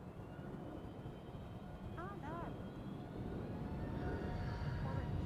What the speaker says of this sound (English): the A320neo from EasyJet is taking off to London Luton